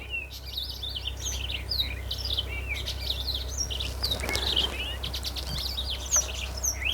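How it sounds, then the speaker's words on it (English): Many birds chirp and sing continuously, with overlapping bright tweets and whistles above a low, steady background hum. "Waking up to this bird sounds is like incredible."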